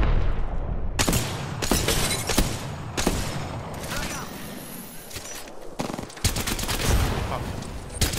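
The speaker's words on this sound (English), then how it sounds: "The enemies are shooting at me" Enemy gunfire in an Apex Legends firefight: dense bursts of automatic shots and heavy impacts crackle continuously for several seconds, loud and close, with short pauses between volleys.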